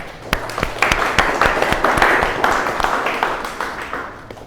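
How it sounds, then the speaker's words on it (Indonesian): Schoolchildren applauding together in a classroom, a dense run of claps that rises quickly, holds steady for several seconds and then thins out. "Kita boleh aplaus bersama-sama"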